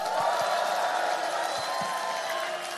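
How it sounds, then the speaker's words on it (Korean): A rally crowd at a South Korean presidential campaign stop in Iksan gives steady, dense applause with scattered cheers, a continuous roar of many hands heard at a distance. "충직한 일꾼들 박수 한번 부탁드립니다"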